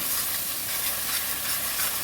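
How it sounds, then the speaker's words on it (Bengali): Masala for duck egg curry sautéing in oil, giving off a steady, close, bright sizzle that hisses evenly throughout with no voices. "আর একটু কষবো"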